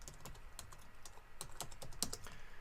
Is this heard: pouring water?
no